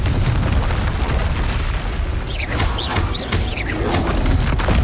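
Constant roaring blasts from the Confringo fire spell in Hogwarts Legacy, loud and close, with rumbling booms and crackling bursts filling the whole stretch without pause.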